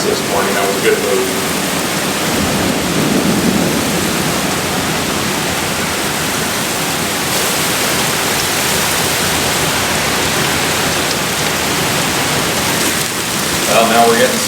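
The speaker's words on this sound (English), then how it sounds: "now we're getting some hail, folks" Hail and heavy rain batter a camping van in a storm, a dense, loud, unbroken hiss and drumming on the roof, with a few sharper clatters near the start and end.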